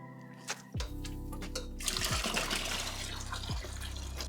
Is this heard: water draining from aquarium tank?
yes